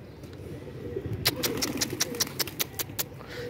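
Pigeons in a high-flyer training flight, a rapid run of about a dozen sharp wing claps close by over a low rumbling background.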